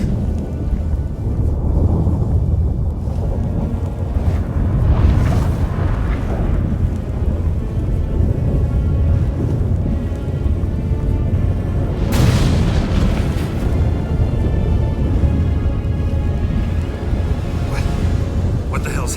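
Thunderstorm in The Witcher 3 video game: a steady, heavy rumbling roar throughout, with a louder thunder-like burst about two-thirds through, under background voices.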